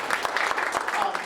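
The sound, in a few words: audience applause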